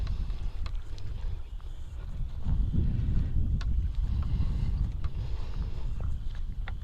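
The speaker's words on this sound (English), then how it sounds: "it's a little bit windy" Wind blowing outdoors beside a backyard pond, a steady low rumble buffeting the microphone and swelling slightly midway, with no one talking.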